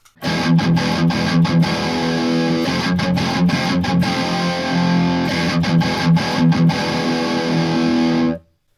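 Electric guitar through an MXR Custom Badass '78 Distortion pedal with a thick, fuzzy, woofy tone chugs through repeated riff phrases, loud and up close, ending abruptly.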